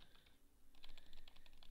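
Rapid mouse clicks from an autoclicker during a 1v1 game, a quick series of sharp, close clicks that start faintly and grow denser and louder in a steady rhythm.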